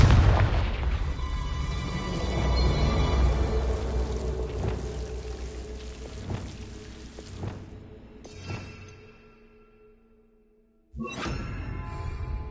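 A Confringo blasting spell in Hogwarts Legacy erupts in a heavy booming explosion, followed by scattered thuds and rumbling debris that fade toward near silence before another sharp blast hits at the end.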